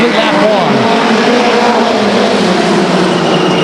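Race cars at Stockton 99 Speedway roar past together to complete a lap, producing a loud, continuous engine drone that fills the whole stretch.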